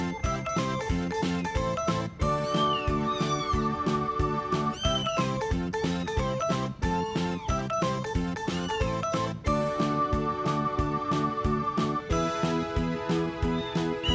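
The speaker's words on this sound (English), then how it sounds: "A mew is made by a cat." A cat mews repeatedly in short, rising and falling calls over steady, rhythmic background music with chiming accents.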